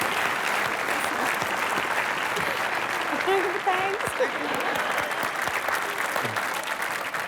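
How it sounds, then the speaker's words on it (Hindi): A studio audience on a comedy show claps loudly and continuously after a dance, with a brief faint voice surfacing partway through the steady applause. "इन दोनों के लिए जोरदार तालियां"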